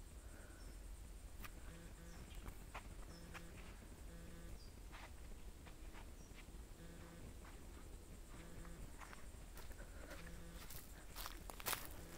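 Faint, steady cicada buzzing drones through quiet woods, with scattered soft ticks and rustles in a calm outdoor setting.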